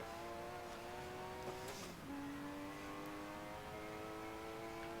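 A Porsche engine in a racing game revs with a sustained tonal drone that dips sharply and then holds a steady higher pitch, at moderate loudness with no talking.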